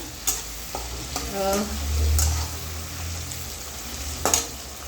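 Ginger and garlic frying in a pan, with a low steady sizzle punctuated by a few spoon knocks and stirring scrapes, close and moderately loud, no talking.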